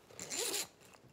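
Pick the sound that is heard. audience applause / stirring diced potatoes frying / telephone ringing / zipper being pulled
zipper being pulled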